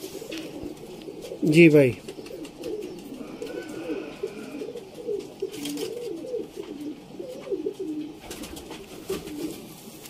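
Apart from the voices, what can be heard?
Rampuri pigeons cooing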